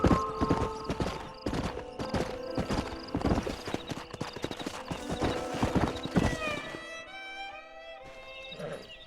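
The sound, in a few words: horses' hooves in video game Red Dead Redemption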